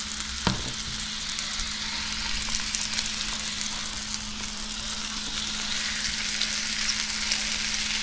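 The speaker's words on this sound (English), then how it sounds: "Put the garlic bread in." Garlic bread fries in a pan with a constant, dense sizzle close by, a single sharp clink near the start and a faint steady hum beneath, no voices.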